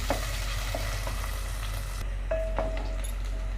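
Onions softening in a pan give a steady low sizzle with occasional stirring scrapes and clinks, close and continuous throughout, with no talk.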